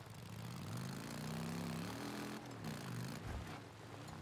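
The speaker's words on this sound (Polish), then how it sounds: "Jest głośniejszy, no wiadomo, potężniejszy silnik mamy teraz w zasadzie." A powerful motorcycle engine in the Days Gone video game hums as a steady, droning rev, its pitch rising and wavering over about four seconds before dipping briefly near the end.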